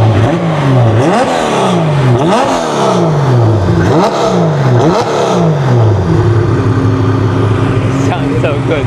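A Porsche 964 engine revs on a dyno, loud and close, climbing and dropping in four or five repeated sweeps before settling into a steady higher idle, with low speech mixed underneath.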